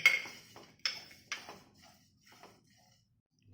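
Poppy seeds, cardamom pods and cloves are dry-roasted in a pan, with a few sharp metallic clinks of a spoon against the pan followed by softer, fainter scrapes, close but quiet.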